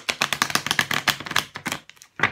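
A deck of Thelema tarot cards is shuffled by hand, a quick run of crisp, rapid riffling flutters in several bursts, close and alone.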